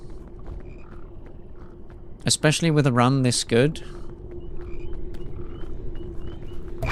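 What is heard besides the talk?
frog croaking in PEAK video game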